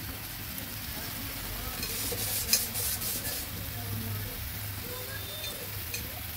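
Dry ground spices with turmeric being stirred in a frying pan, a steady sizzle under scraping strokes of a spoon, with a few brighter clatters midway.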